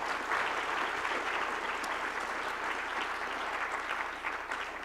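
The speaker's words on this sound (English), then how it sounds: "Can I first get a big round of applause for our panel who did an amazing job?" Audience at the 2019 Appalachian Prosperity Project applauds a panel, a fairly quiet but continuous wash of many hands clapping across the room, steady and unbroken throughout.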